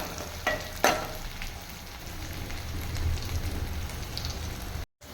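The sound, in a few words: green chillies sautéing in oil with onions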